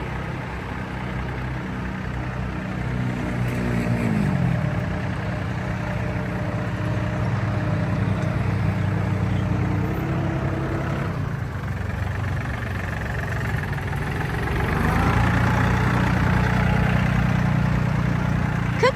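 A used Yanmar EF352T tractor engine, recently repaired for leaks, runs loud and close in a steady low diesel drone. Its pitch rises and falls slightly as the throttle changes.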